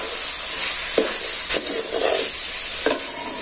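Ghugni with ground fried spices is stirred in a pan, a low sizzle broken by a few distinct spatula scrapes and knocks, with no speech.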